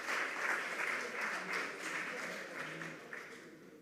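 A quiz competition audience applauds a junior high school team, with steady broadband clapping sustained throughout at moderate, slightly distant level, fading a little toward the end.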